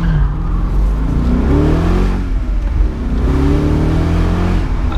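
A BMW Z8 V8 engine revs to about 4,500 to 5,000 rpm, rising and falling in loud, close sweeps over a rumbling idle, twice in a row.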